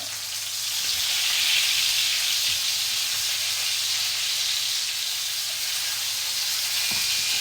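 Meat pieces breaded in protein powder frying in a pan give a steady, even sizzle and hiss throughout, with a couple of faint clicks and no talking.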